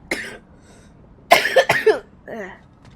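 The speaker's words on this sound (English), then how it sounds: "I'm sorry for coughing when everyone's here." A person coughs close to the microphone, a few harsh bursts and some throat-clearing, with quiet video-game sound faint in the background.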